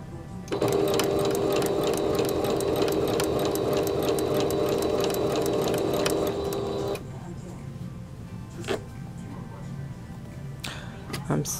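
A sewing machine stitches in the ditch along the top edge of a blouse, running in a fast, even, loud whir for several seconds before stopping, followed by faint handling sounds; a voice speaks briefly.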